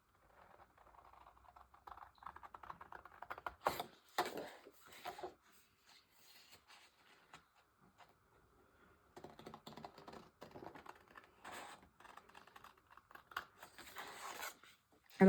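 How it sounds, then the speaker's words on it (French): Scissors snip and crinkle paper for a nighttime art collage, soft and close, with irregular cutting and rustling bursts over a quiet room. "Je pense qu'avec des ciseaux, ça sera plus pratique."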